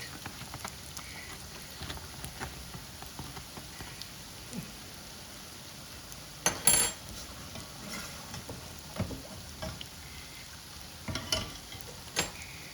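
Spinach-filled pişi dough frying in hot oil in a pan gives a steady, close sizzle with scattered crackles and a few louder pops, and no one speaks.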